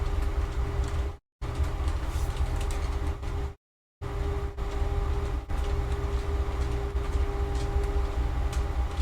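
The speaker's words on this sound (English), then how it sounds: "I think the train's picking up on the mic again." Real train rumbling nearby, picked up faintly through a microphone: a continuous low rolling drone with a steady hum, broken by two brief silent gaps, no voices.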